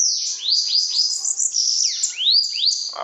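Sibite bird perched on a finger singing at night, a loud, close run of repeated rising chirps and quick tweets in a bright, continuous high-pitched phrase.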